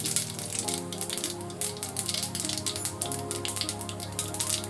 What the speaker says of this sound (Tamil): கடுகு பொரியட்டும்.